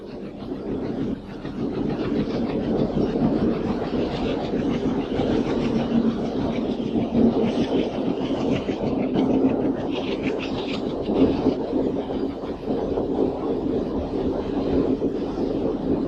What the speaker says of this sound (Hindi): यहाँ पुल भी है और रेलगाड़ी भी